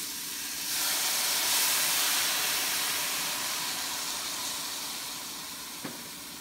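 Soy sauce hitting a hot pan with garlic for pork pata hamonado, a broad steady sizzle and hiss that swells briefly then settles into a continuous crackle.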